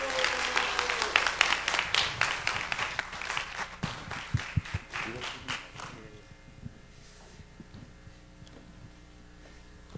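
Audience applause welcoming a church elder back to the front at an internship seminar, a burst of clapping with some voices for about six seconds, then fading into a quiet room hum.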